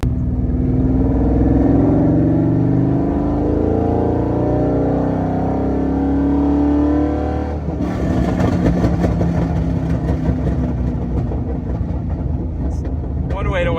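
A Gen 3 Coyote V8 swapped into an S197 Mustang makes slow climbs in revs, then the exhaust note turns sharper and rougher partway through as it pulls harder. The engine is loud and close, running continuously without a break.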